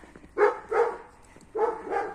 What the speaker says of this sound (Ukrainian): Це щось собака загавкала